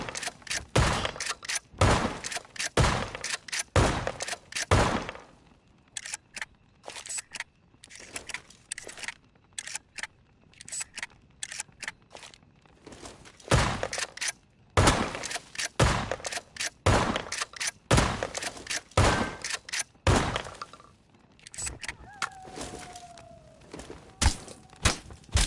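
Gunfire in the video game H1Z1, loud bursts of rapid shots in dense clusters separated by brief lulls, with volleys returning again and again across a long stretch.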